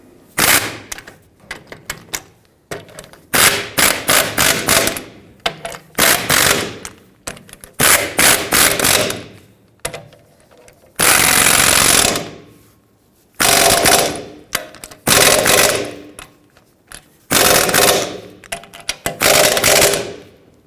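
Rear backing plate bolts on a 2009-2011 Ford F-150 being driven tight in a cross pattern with an impact wrench, giving repeated loud rattling bursts of a second or two each, separated by short pauses, close up with no talk.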